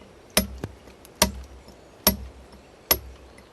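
Cliff plank-road workers hammer poured cement on a walkway built into a vertical canyon cliff, four crisp metallic strikes in a steady rhythm roughly a second apart, close and distinct, with a faint softer tap after the first.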